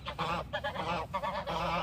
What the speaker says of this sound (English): Do you hear those geese?